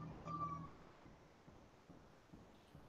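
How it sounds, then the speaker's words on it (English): A single short meow from a cat outdoors comes through faint and distant at the start, followed by quiet room background. "Yeah, that is definitely a cat."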